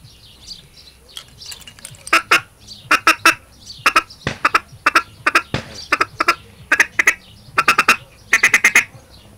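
A duck call sounds rapid, short quacking bursts in uneven clusters, imitating a feeding duck's chatter, close and fairly loud.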